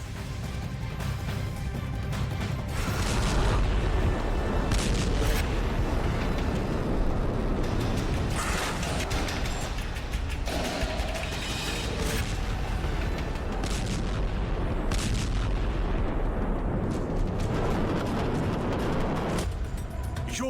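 Explosions from a hypersonic missile strike on Kyiv, heard as a long, dense barrage of booms and blasts with repeated sharp impacts over a constant roar.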